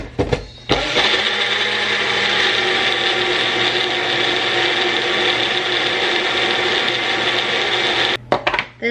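A Magic Bullet blender whirs loud and close, blending a smoothie thickened with about a quarter of an avocado, one steady motor roar lasting around seven seconds before it cuts off with a few clunks.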